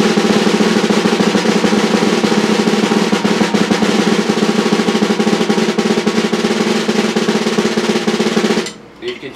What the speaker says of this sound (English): But now if you were to play it here dead center, it would sound like this.